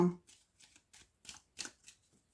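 Oracle cards from a Lenormand deck are shuffled by hand in a quick series of soft, papery riffles and slides, close and fairly quiet, with no voice over them.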